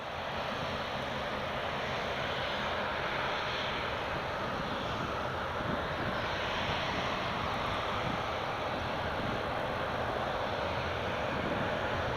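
An Aer Lingus airliner taking off at Newcastle Airport, a broad continuous distant engine roar that holds steady throughout without voices.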